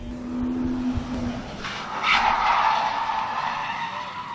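A stock BMW E36 drift car skids at a drift event, a long tire squeal rising and sustaining as the car loops into a spin, heard loud and fairly close over engine noise.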